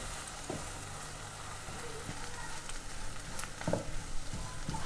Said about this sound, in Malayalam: ഹൈ ഫ്ലെയിമിൽ ഇട്ടിട്ട് തന്നെയാണ് നമ്മളിത് മിക്സ് ചെയ്യുന്നത്.